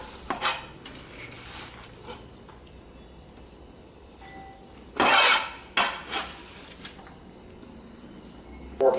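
Chopped celery, tomato, spring onion and coriander tipped into a mixing bowl in a home kitchen, giving a few sharp clattering bursts of utensil against bowl amid quiet background noise.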